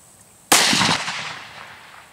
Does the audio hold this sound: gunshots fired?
yes